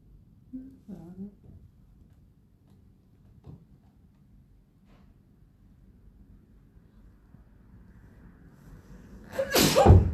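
Near silence with faint shuffles, then one sharp, loud sneeze bursts out close by at the very end.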